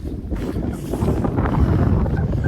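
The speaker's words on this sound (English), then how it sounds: "Wow, this bloody wind's strong." Strong wind of around 50 mph roars across the exposed Clougha Pike hilltop in the Forest of Bowland, a loud, continuous buffeting rumble battering the microphone, with no voices.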